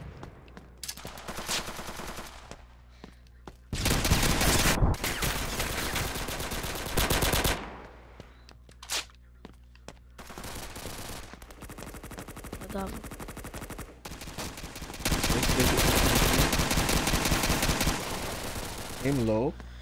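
Rapid automatic gunfire in the Pixel Strike 3D shooter game, with loud sustained bursts alternating with shorter volleys and scattered single shots, players talking over the action.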